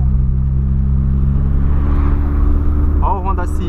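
A Honda Civic drives by with a steady low engine rumble and road noise, fairly loud and close throughout, while someone talks briefly near the end.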